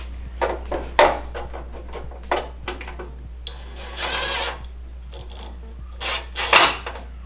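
A torque wrench tightens radiator screws on an LS-swapped Mazda Miata, giving a run of sharp mechanical clicks and ratcheting taps in uneven bursts over a steady low hum, fairly close.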